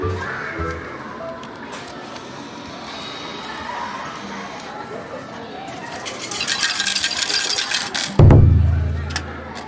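Gashapon capsule toy machine in a shop worked with coins: clinks and jangling amid a busy ambient crowd, building to a louder rattling crank and a capsule thud near the end.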